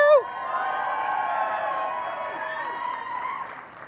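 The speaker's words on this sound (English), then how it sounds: "Pretend you're the winner. Let's hear you crowd out." An awards-show audience on a trade-expo stage cheers and shouts on cue, a loud sustained crowd roar with whoops that holds steady for several seconds before easing off.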